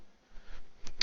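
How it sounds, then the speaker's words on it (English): In the Space Station 13 video game, a shotgun shell slides into a metal magazine, heard as soft scraping followed by two sharp, close metallic clicks near the end. "the shotgun shell being loaded into the magazine, actually sliding against the metal and stuff"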